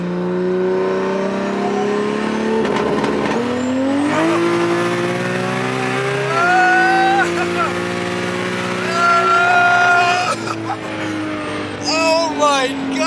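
A Toyota Supra launches hard with its tires spinning, engine note rising and roaring loudly up close, with a brief drop and renewed surge partway through and a voice talking over it.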